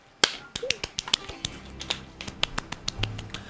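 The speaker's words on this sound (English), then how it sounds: "Now here's us high five clapping." Hands slapping together in quick high fives while playing New Super Mario Bros Wii, a string of sharp, close claps and taps at an uneven rhythm, with a voice speaking briefly between them.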